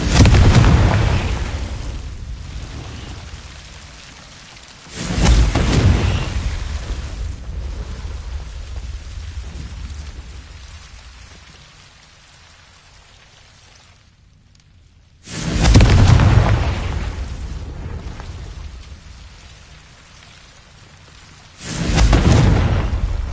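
Blasting spell explosions in Hogwarts Legacy go off as four loud booming blasts, each one followed by a long rumbling decay. No one speaks.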